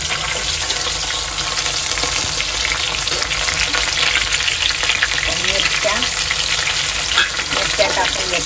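Garlic and curry leaves fry in a hot pan for a tiny-shrimp dish, giving a steady, dense sizzle that holds evenly throughout with faint stirring underneath.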